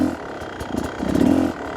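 Enduro dirt bike engine in first gear under clutch control, close and uneven low chugging with short throttle blips and a rough, pulsing rhythm over about two seconds.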